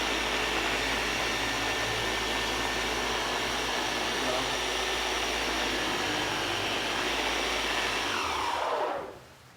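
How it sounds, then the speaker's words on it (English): A Flex 3401 dual-action polishing machine buffs a car's paint, giving a loud, steady whirring drone that holds unbroken for about nine seconds before the motor shuts off and winds down. "you want to make sure you're keeping your polishing level, and obviously a good machine makes that easier"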